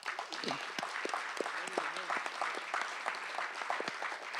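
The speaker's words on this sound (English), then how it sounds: "A round of applause for the students." A lecture audience applauds the students in the room, moderate-sized clapping that runs steadily and fairly quietly, with a few voices faintly audible underneath.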